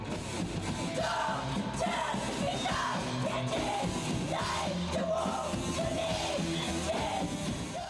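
A girl screams vocals for a hard, edgy band, loud sustained yells over dense distorted instruments and drums in a live setting.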